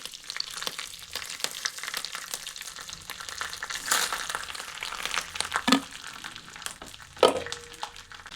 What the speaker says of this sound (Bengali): তো এরপর এই চালটিকে কিছুক্ষণ ভেজে নেব যাতে চালটি আরও ঝুরঝুরে হয়ে যায়।